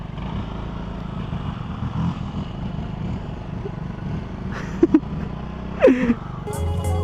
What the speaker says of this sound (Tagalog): Isang kilometro din pala kawawa ang motor namin.